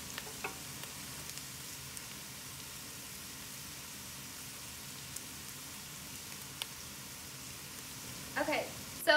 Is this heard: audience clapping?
no